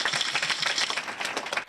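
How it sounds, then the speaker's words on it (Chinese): A room of young party workers at a Democratic Progressive Party training session applauds the arrival of former secretary-general Qiu Yiren, a dense, steady patter of many hands with no pauses. "以掌声来欢迎我们永远的秘书长邱毅人"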